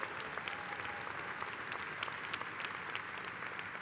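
Steady audience applause at a union convention, a dense even patter of many hands clapping that holds at a constant moderate level throughout.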